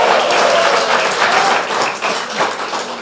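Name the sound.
loud applause from a church congregation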